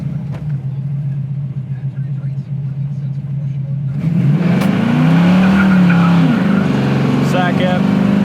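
A 1969 Chevrolet Camaro idles with a low, steady engine note, then launches hard at about four seconds. Its tires squeal loudly and the engine climbs and sweeps through the gears, close and aggressive.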